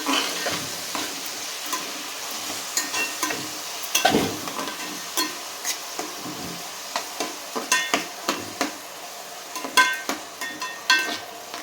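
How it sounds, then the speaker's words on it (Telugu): Chopped onion pieces fry in a pan for a sea fish curry, a steady close sizzle running throughout, broken by frequent scraping and clinking stirs that grow busier toward the end. "ఉల్లిపాయ ముక్కలు ఎర్ర కావాలండి"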